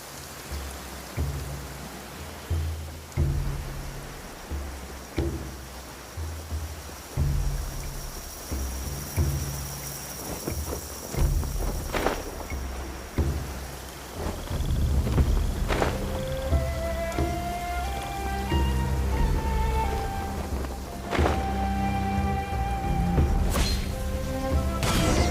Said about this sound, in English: Going out on a rainy day is the worst.